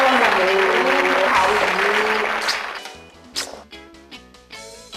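Studio applause welcomes guest Natasha Ali on an interview show, loud at first and then dying away as a voice and musical tones take over.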